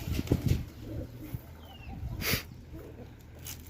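Pet pigeons coo faintly in a backyard loft kept alongside roosters, soft low calls rising and falling amid quiet background rustling and a few dull bumps.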